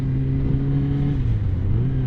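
Steady motorcycle exhaust drone, close and fairly loud, holding a low rumbling note with a slight pitch shift partway through.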